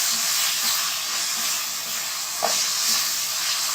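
Chicken fries in butter and a little oil in a pan, making a continuous soft sizzling hiss with a faint tap partway through, and no one speaking.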